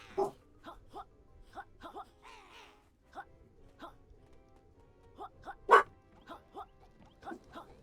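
Dog whining in repeated short, high whimpers and yips at a steady pace, fairly faint and close, while it plays with a pig's ear indoors.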